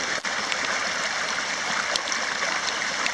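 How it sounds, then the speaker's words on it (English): Floodwater pours steadily from a drain into Smith's Creek, a constant close rushing and gurgling stream at fairly loud level. "That's a lot of influx of water just from that one drain"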